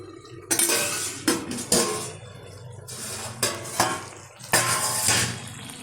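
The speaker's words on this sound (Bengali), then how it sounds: "ঢাকনাটা তুলে দিচ্ছি।" Metal lid lifted off a cooking pot of shalpia fish-head and pui shak curry with pumpkin and potato, a run of close clinks and scrapes at irregular intervals, with no voices.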